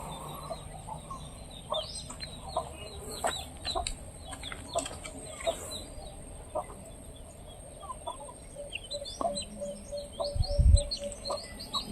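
Chickens cluck and chirp outdoors around an apparently inhabited spot, scattered short calls at moderate distance, with other birds tweeting and a low background hum throughout.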